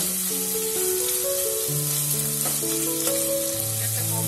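Prawns frying in oil for a Bengali jackfruit dish, an even close sizzle with light stirring, heard under background music without any talk.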